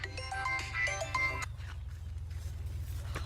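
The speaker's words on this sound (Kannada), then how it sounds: "ಯಾರು ಫೋನ್ ಹಚ್ಚಿದ್ರೆ?" A phone ringtone plays a bright, melodic run of electronic notes for about a second and a half, then stops, leaving a steady low hum of background noise.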